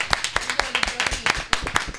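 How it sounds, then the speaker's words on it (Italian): Audience applause during an Italian book presentation event, a burst of scattered, uneven claps from a seated crowd mixed with overlapping voices and chatter. "Felice, facciamo un applauso."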